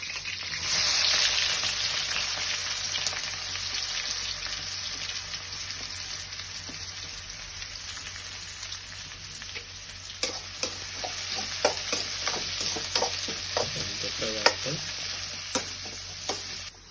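Vegetables lightly frying in a pan for egg fried rice give a continuous soft sizzle, joined in the second half by repeated sharp scrapes and clacks of stirring.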